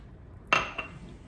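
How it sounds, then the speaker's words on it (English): Vegetables with leftover corn get stirred in a cooking pot: two quick metallic clinks of a utensil against the pot, the first louder, then quiet. "Give it a stir."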